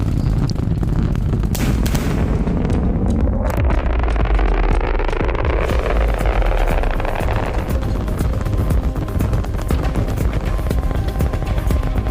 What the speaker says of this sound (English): Booster landing burn startup.